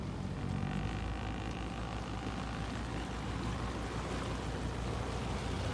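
Boat engines idling at low revs while leaving Jefferson Marina early in the morning, a steady, even low rumble with no change in pitch or level throughout.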